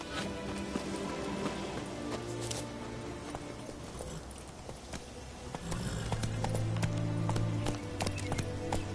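Roach, the horse from The Witcher 3, gallops with a steady, rhythmic clip-clop of hooves, fairly close and even, continuing throughout over a soft ambient bed that grows a little louder near the end.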